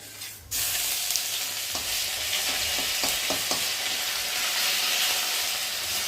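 Steady sizzle of ginger paste frying in oil fills the clip after a brief quiet start, with a few soft clicks of stirring against the pan; no voices.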